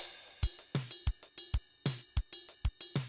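A drum groove: punchy kick and snare hits under a ringing ride cymbal that sustains between strokes, played at a moderate, steady pace.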